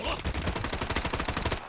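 Rapid automatic gunfire in the Blood Strike video game rattles in a dense, loud burst of evenly spaced shots lasting nearly two seconds, then cuts off abruptly.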